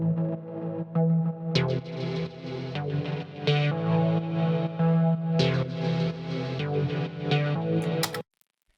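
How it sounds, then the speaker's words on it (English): Dub chord synth made in Serum plays a sequence of rhythmic, echoing chord stabs with a steady groove, warm and sustained, cutting off abruptly near the end, with no voice over it. "today we're gonna make this dub chord sound,"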